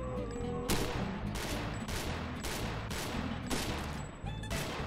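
Rapid, evenly spaced Glock pistol shots ring out in Gun Club VR, six or seven sharp bangs in a steady rhythm, fairly close and loud with no talking.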